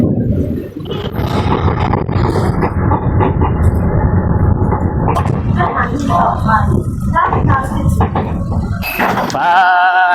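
Underground metro train riding on Bangkok's Yellow Line: a loud, continuous rumble and roar of the moving carriage, with squeals and tonal whines as it brakes near the end, with voices talking faintly underneath.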